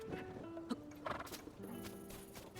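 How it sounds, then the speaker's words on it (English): A horse in Zelda: Tears of the Kingdom gives a short whinny amid hoof clip-clops and game ambience, moderately loud with a few sharp accents. "Seems like a big horse."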